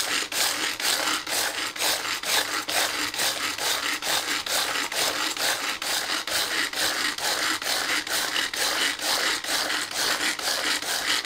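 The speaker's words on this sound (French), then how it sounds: "complètement émietté nos petits beurres en un tour de main" Petit beurre biscuits are crushed in a Tupperware Turbotop pull-cord chopper, producing a fast, even series of rasping, grinding strokes repeated several times a second, close and steady throughout.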